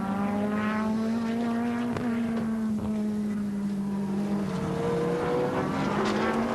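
Touring cars race at Wanneroo in the 1991 ATCC round, with Mark Skaife's Nissan leading Jim Richards. High engine whines hold and shift pitch between gear changes, fairly distant and moderately quiet, with brief overlapping passes.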